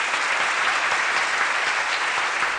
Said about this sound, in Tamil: அந்த உழைப்பை அங்கீகரிக்கிற வகையில் ஒரு கைத்தட்டு கொடுக்கலாமா?